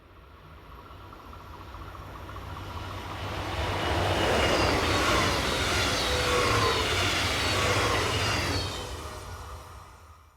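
A Westfalenbahn electric multiple unit train passes in a broad rising then falling roar, loudest in the middle and fading away, with no voices.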